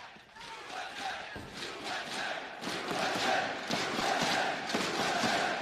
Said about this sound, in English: USA chants ringing out as Liquid march towards another trophy in 2019.